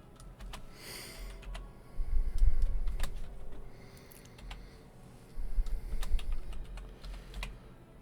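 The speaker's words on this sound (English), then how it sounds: "I actually need the keyboard for this" Fingers type on a computer keyboard in irregular bursts of clicky keystrokes, close and clear, over a low background hum, with a couple of louder rumbling swells.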